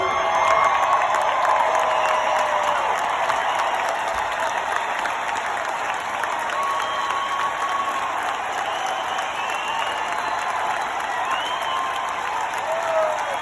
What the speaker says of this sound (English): stand for a round of applause, please